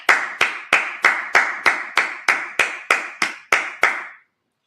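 Congregation at a Sabbath service clapping in unison, eleven crisp, evenly spaced claps at a steady beat, each ringing briefly in the room before the next, ending cleanly with no talking.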